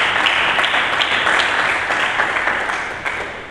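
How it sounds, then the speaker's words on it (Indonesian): A church congregation applauds during a Sunday service, loud and continuous clapping that gradually tapers off over a few seconds. "Mari kita berikan tepuk tangan bagi Yesus."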